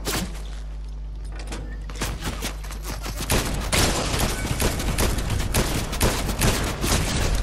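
Gunfire in a Fortnite trios match, dense bursts of rapid shots that intensify after a quieter start and continue through the middle and end, with no talk.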